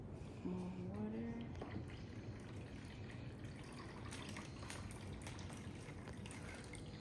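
Water poured into a cooking pot past the minimum fill mark, a continuous close splashing and trickling with a short rising gurgle near the start, steady throughout.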